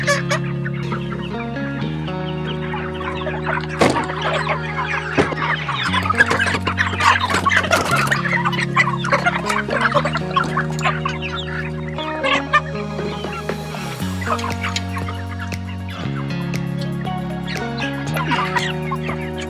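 A flock of meat chickens being raised on pasture clucks and chatters continuously, many birds close by, their busy overlapping calls sitting over a low, steady musical background.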